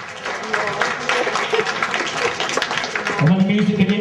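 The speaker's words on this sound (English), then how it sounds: "everyone will give you a huge round of applause" Audience applause at a stage hypnosis show, a dense, steady wash of clapping sustained throughout, with a tonal musical line rising near the end.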